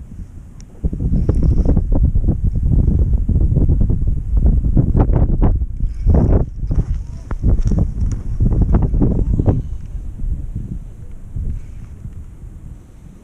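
Strong wind buffeting the microphone out on the water during a fishing trip, loud gusty rumbling that rises and falls, close and continuous, with no talk.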